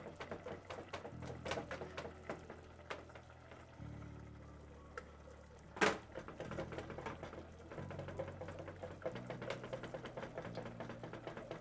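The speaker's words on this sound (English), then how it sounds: "Make sure we're also whisking in this side." Whisk scraping through mac and cheese sauce in a pot, quick repeated clicking and stirring strokes close by, with a brief sharp clink partway and a low hum underneath.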